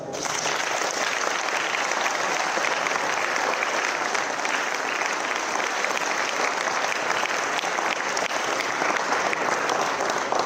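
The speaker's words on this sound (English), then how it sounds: "Give a big clap for your forefathers." Sustained applause from a large audience at a university centenary celebration, steady and loud for the whole stretch, with no pauses or voices standing out.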